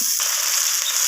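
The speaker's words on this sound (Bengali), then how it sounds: "দিয়ে আলুগুলোকে পেঁয়াজের সাথে ভেজে নিচ্ছি" Long-cut potato strips frying with onions in a hot pan, a steady bright sizzle that carries through the whole moment without any talk.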